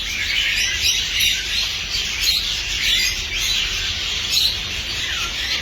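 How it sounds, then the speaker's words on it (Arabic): Many ornamental birds in a shop chirp and tweet together in a dense, steady, high-pitched chorus that fills the space close by, with no talk. "طيور ما شاء الله نشطة"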